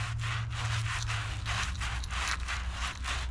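A sponge rubs lightly over the cork handle of a fishing rod in steady back-and-forth strokes, producing a soft, close scrubbing swish that repeats about every half second under a low background hum.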